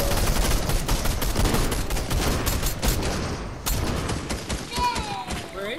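Rapid bursts of gunfire during a Fortnite squads match, a dense run of close shots that thins into scattered pops, with players talking over the shooting.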